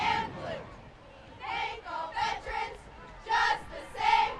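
High school cheerleaders shout a rhythmic chant at a football game in Farrell, Pennsylvania, with several loud, evenly paced group calls echoing across an open stadium over a soft crowd murmur.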